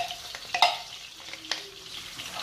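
Finely chopped onion frying in margarine or butter, a soft steady sizzle with a few sharper crackles and stirring scrapes, close by and alone with no talking.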